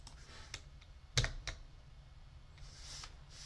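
A few quick keystrokes on a computer keyboard typing a short command, a cluster of faint clicks followed by a pause and quiet room tone.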